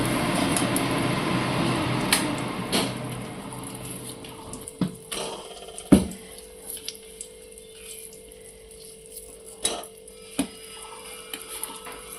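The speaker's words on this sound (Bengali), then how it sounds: "গুড়ের কোটোটা ধুয়ে আমি জলটা দিয়ে দিচ্ছি" Water rinsing a jaggery container into a pot, a running pour at first that thins out, followed by scattered knocks and clinks in a quiet kitchen.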